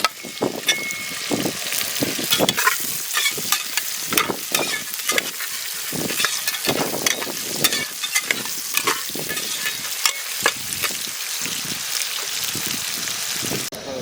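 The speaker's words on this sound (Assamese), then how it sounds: "এইবাৰ আমি পিঁয়াজ আৰু জ্বালাখিনি দি দিছোঁ।" Onions and chillies frying in a pan outdoors, a continuous sizzle with repeated scraping stirs of a spatula throughout, close and fairly loud.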